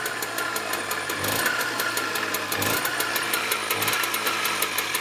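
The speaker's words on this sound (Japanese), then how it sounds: "カチッといったら少しアクセルを煽って、" A TOMOS moped engine, kick-started with the choke pulled, runs while warming up, the throttle blipped lightly. It gives a steady, buzzing, rapid-ticking mechanical drone that holds a fairly constant pitch with slight rises throughout.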